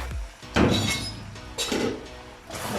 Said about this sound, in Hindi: अब इसका ढक्कन उठा लेते हैं